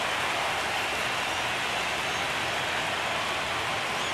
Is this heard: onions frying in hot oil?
no